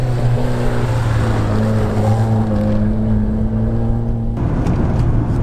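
A car engine running on WD-40 in place of engine oil, a loud, steady droning hum with a constant low tone, recorded from inside while driving, shifting in pitch near the end.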